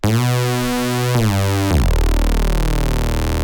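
A raw, buzzy, unprocessed Reese synth bass sustains a low note, slides abruptly to a different pitch, then drops into a deep, wide detuned drone.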